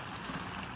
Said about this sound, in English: Don't let all the rain in.